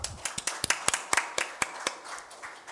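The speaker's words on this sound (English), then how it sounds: "Please give him another big round of applause." A small seminar audience on court technology claps for a speaker, a brief, sparse burst of individual hand claps that starts loosely and thins out over a few seconds.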